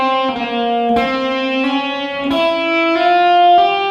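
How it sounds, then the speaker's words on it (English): Electric guitar plays a solo slowly, with distinct picked notes about every half second to second, each sustaining with rich harmonics and slight distortion, loud and alone with no talking. "I'll play it slow for you guys to follow along"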